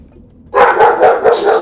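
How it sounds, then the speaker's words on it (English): A dog barks several times in quick succession, loud and close, the rapid burst starting abruptly after a quiet moment. "And there goes my dog."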